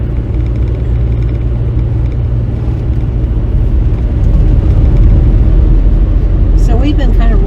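A car driving a road through the national forest of the Winding Stair National Recreation Area, a steady loud low road and engine rumble heard from inside the vehicle, with people talking over it.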